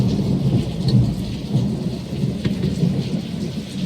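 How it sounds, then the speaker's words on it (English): A deep, rumbling roll of thunder after a lightning bolt in a storm, sustained and booming under steady rain hitting surfaces. "then you wait for the thunder after the lightning bolt"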